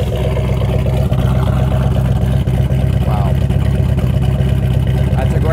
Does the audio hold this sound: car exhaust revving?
yes